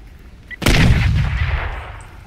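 A single heavy blast of gunfire in the video game Crysis, loud and close, with a booming low-end rumble that trails off over about a second and a half.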